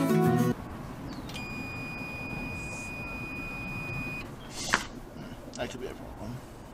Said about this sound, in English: I switch it over to continuity mode to see if there's continuity on that wire